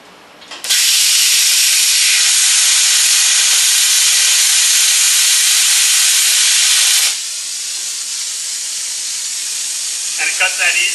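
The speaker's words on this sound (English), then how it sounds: "So with the plasma cutter, all you do is turn the switch on," A plasma cutter powered by compressed air from a hooked-up hose fires into a loud, steady hissing roar that fills the air, then drops to a quieter continuous hiss for the rest, with a few faint clicks near the end.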